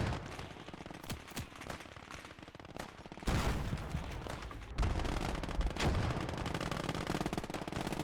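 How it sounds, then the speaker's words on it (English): Sustained MG42 machine-gun fire in the Gates of Hell war game, dense bursts of rapid shots crackling continuously and growing louder and heavier after the first few seconds, with no voices over it. "It's just MG42's going absolutely ham right now."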